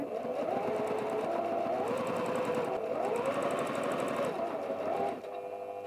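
A sewing machine top stitches a tablet cover in one continuous run, its rapid needle rhythm close and steady, with faint pitch swells as the speed changes before it eases off near the end.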